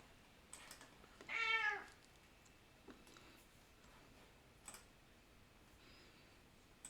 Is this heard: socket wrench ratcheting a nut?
no